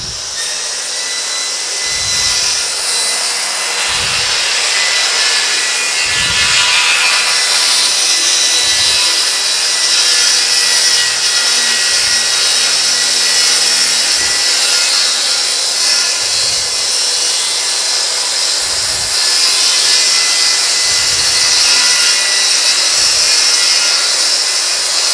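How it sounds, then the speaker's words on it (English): A circular saw cuts through wood while a chick brooder is being built, producing a loud, continuous whirring rasp. Dull thumps repeat about every two seconds throughout, with no voices. "So we're going to take the circular saw."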